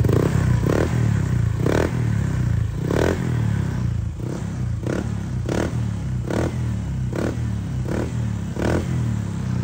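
Motorcycle engine revved at low RPM in a shop sound check, loud close exhaust rumble with about a dozen evenly spaced throttle blips over a constant idle.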